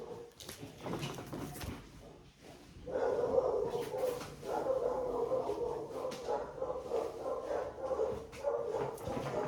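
A dog barks and whimpers indoors, fairly faint, in short yips and barks scattered over a low background hum.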